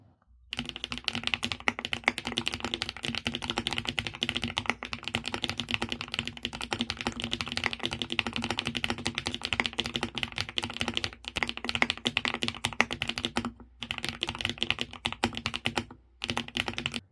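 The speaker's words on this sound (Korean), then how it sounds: "그럼 키보드 자세히 보기 전에 타건하는 모습 먼저 보여드릴게요" Close, steady typing on an SP Star D82 Pro mechanical keyboard with factory-assembled switches and keycaps: a continuous stream of clacky keystrokes with only brief pauses and no speech.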